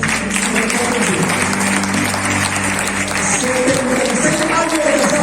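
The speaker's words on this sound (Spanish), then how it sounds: "Hay que dar un aplauso, ¿no?" A church congregation applauds a couple married many years, giving a sustained, fairly loud crowd clap with some voices mixed underneath.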